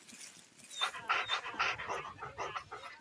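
Sled dogs pant rapidly and rhythmically at close range after pulling along a mile-long portage trail, a string of quick breaths with no voices over them.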